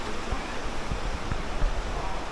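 A waterfall in a forest near Murcia, Negros, in the Philippines rushes in a steady, dense wash of noise, close and fairly loud, with no clear breaks.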